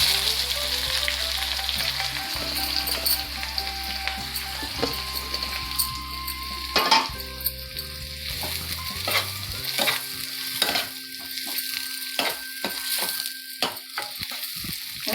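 Onions sizzling and frying in hot oil in a pan for a dhaba-style paneer curry, a steady loud crackle with stirring scrapes and occasional clinks throughout.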